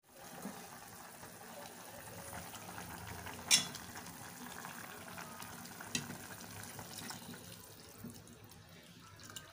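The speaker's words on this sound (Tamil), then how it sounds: "இப்போ பாருங்கள், நல்லா கொதிச்சிட்ருக்கு." A pot of tomato soup simmering steadily with a soft, continuous bubbling hiss and the odd small pop, fairly quiet and close by.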